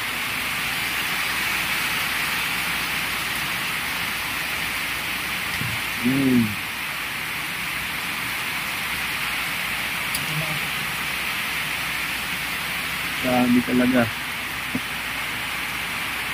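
Heavy typhoon rain in Bicol during Typhoon Wilma keeps up a steady, loud hiss, while someone speaks briefly twice over the downpour.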